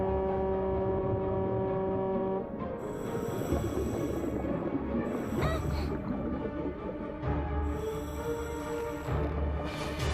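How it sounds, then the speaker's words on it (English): An air horn sounds in an animated rescue scene as one steady, loud, droning tone for about two seconds, then gives way to busier mixed sounds and music. "The air horn."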